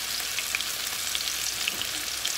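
A pork chop coated in cassava flour fries in a pan over low heat, giving a steady close sizzle dotted with small pops and crackles. No talking.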